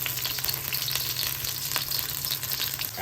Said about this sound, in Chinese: 油够热呢就下去，直接倒啊，你看哇，直接倒，一坨这样，稍微把它铺平一下。